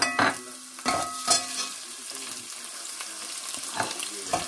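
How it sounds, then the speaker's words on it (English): Onions tipped into a hot pan sizzle steadily, with several sharp clattering scrapes of a utensil against the pan early on and near the end. "So I'm gonna tip in my onions."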